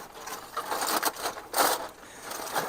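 Aluminum foil is crinkled and pressed around a porchetta roast being prepared for the barbecue, giving soft, close crackling rustles in several uneven bursts with short pauses between them.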